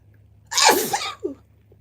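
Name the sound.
sneeze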